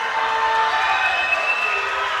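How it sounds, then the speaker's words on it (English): Arena crowd at an IPF world classic powerlifting championship roaring and cheering for a women's 69 kg squat opener, a steady dense wash of voices held at a constant loud level throughout. "A roar from the crowd for Ireland's Jordan Bright"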